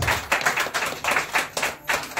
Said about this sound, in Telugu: చప్పట్లు కొడదాం దేవుని